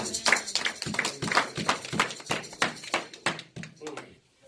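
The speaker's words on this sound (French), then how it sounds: "Est-ce que quelqu'un peut donner une belle acclamation pour la parole de Dieu?" Scattered, uneven handclaps come from a church congregation applauding during a sermon, each clap distinct and close, tapering off near the end.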